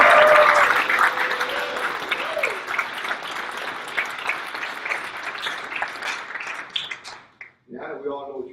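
Sustained applause from a banquet crowd at an awards dinner, loud and dense, filling most of the stretch before fading out, with a voice speaking briefly near the end.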